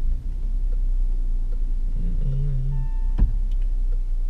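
A Citroen C5 Aircross creeping forward into a parking bay gives a steady, low cabin rumble, with a short tonal chime and a faint click near the end.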